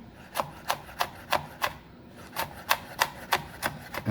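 A chef's knife chops julienned salad vegetables into brunoise on a cutting board, giving about a dozen crisp, evenly spaced taps, close and clear, with a brief pause midway and no talk.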